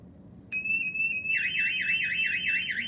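A SimpliSafe home alarm siren, set off by a key fob panic button during a test at a house, starts abruptly as a loud, piercing steady tone, then turns into a rapid warbling wail, close and unbroken.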